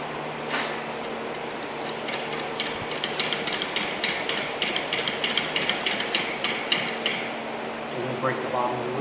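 Brake caliper bolts being broken loose on a 2003 Toyota Highlander, a series of sharp metallic knocks and clicks from a tool, close by, in an irregular rhythm under steady background hiss, with someone talking.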